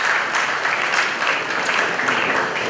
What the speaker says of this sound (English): I want to applause for the king.